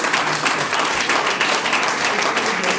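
An audience at a Forever Living Products training event in Togo breaks into steady, dense applause that fills the room evenly from start to finish.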